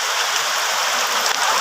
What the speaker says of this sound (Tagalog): napakalakas na ng ulan